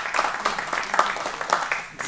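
An audience at a live jazz trio performance claps for the drummer, a dense patter of many hands close by, steady with slight surges and a brief dip near the end.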